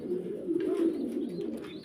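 Low, rolling coos from black exhibition pigeons kept with eggs and young rise and fall continuously at close range, with faint higher bird calls above.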